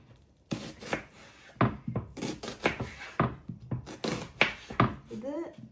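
A knife chops an onion on a board during home meal prep, a run of irregular close taps and slices coming in quick clusters with brief pauses.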